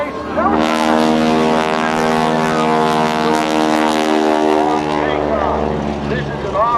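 A Stearman biplane with a big radial Pratt & Whitney engine takes off at an airshow, its loud, steady droning roar with rich harmonic hum holding throughout, with an announcer talking over it.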